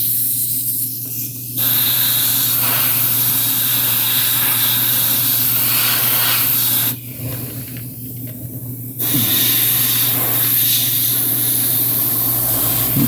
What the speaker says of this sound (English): my airbrush is acting up, which I just cleaned